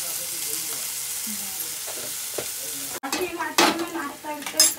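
Dal poured into a hot tempering with asafoetida and salt erupts into loud sizzling and frying hiss, with stirring sounds, after a quieter stretch of low kitchen noise.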